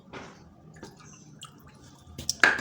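Water trickles and drips into a bowl of sugar, a third of a cup added in two goes for a sugar syrup, with soft splashes and a louder splash near the end, close and fairly quiet.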